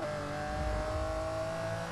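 A Ferrari race car engine, an Enzo or LaFerrari in the Forza Motorsport game, holds a steady high-pitched drone with a slight rise in revs on the track, moderately loud and alone.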